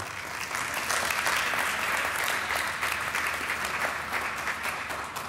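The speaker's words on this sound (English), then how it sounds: "yeah, you can clap for that" An audience at a Q&A talk on love and Torah applauds steadily, a continuous wash of many hands clapping at an even level for the whole stretch, with no voices standing out.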